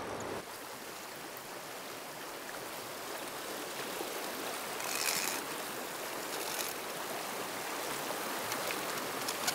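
A low mountain river with trout, shrunken after the snowmelt, flowing in a steady broad rushing wash that swells slightly midway and stays continuous, close and fairly loud.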